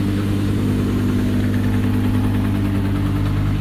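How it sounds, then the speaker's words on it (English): A race car engine idles steadily in an ELMS pit lane at Le Castellet, a loud, constant low rumble with a faint uneven knock running through it, close by and with no voices over it. "The car's running, keys in, dare we?"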